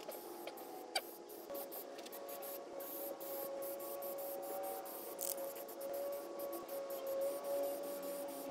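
An aerosol can of Tremclad, also known as Rust-Oleum Rust Reformer, sprays a first coat onto the underbody of a Jeep YJ tub in a steady hiss, broken by short pauses and a few taps, with no one talking.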